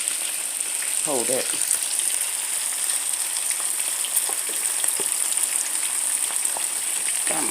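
Halibut sizzling in a hot pan for a home fish dinner, a loud, steady crackle and spatter throughout with scattered pops, and someone briefly speaks over it.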